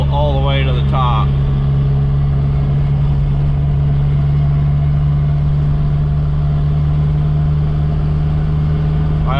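Toyota truck with a swapped TDI diesel engine pulling steadily up a hill, a loud continuous low engine drone heard close throughout, with a brief voice near the start.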